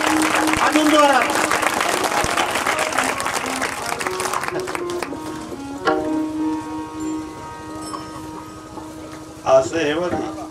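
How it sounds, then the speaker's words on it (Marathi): An audience claps during a kirtan at a week-long saptah gathering in Arangaon. The clapping is loudest early and then fades under amplified talk and tonal music, with a brief burst near the end. "जोरात टाळ्या वाजवा"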